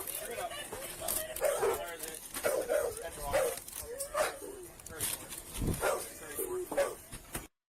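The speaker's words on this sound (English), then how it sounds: "Is that their dog or is that the police's dog?" A dog barks repeatedly at a police call at a home, sharp yips and bow-wows in an irregular rhythm, with people talking over and between the barks.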